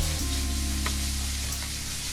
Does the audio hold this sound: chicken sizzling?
yes